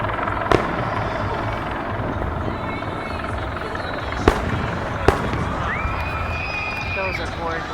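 Fourth of July fireworks over Washington DC in 2015 thud a few times at a distance, mixed into a steady roar of crowd noise and a helicopter hovering overhead, with people talking nearby.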